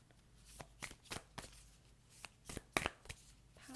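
An oracle card deck being shuffled by hand, a Moonology deck, with a series of crisp, close riffling bursts at irregular intervals and quiet pauses between them.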